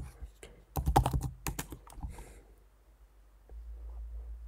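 Quick, close clatter of keys on a computer keyboard as a domain URL is typed, a dense burst of clicks lasting about two seconds before fading into quiet room noise.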